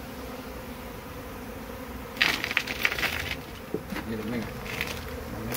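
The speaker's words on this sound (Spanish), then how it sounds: "ocupo que las abejas se desplacen" Bees swarm and buzz around a soft honeycomb as it is cut by hand, with a dense insect hum that swells into louder close buzzing passes midway, while someone speaks briefly.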